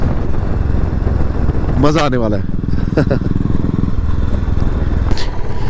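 A motorcycle engine hums steadily and loudly while the bike rides along a highway, a constant close drone with people talking over it.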